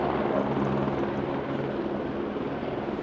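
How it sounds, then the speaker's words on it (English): A helicopter lands on a rainy beach with a loud, close rotor roar and thumping. It holds steady and begins to ease off slightly toward the end. "out of nowhere a helicopter just drops in."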